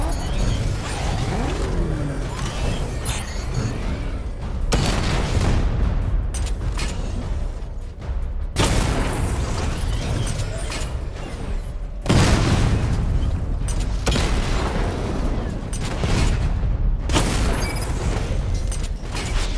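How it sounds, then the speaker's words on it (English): Batmobile missile barrage in Batman Arkham Knight: heavy booming blasts and mechanical rumble repeat in waves, with sharp loud onsets every few seconds and a dense, roaring body throughout. "Charge up missile barrage to level 2 and destroy 4 active targets to complete diagnostic test."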